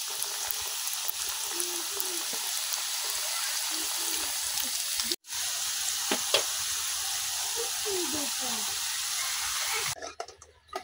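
Murali dough snacks frying in a pan of oil, a steady close sizzle and crackle that drops out briefly midway, then resumes and stops near the end, with faint voices in the background.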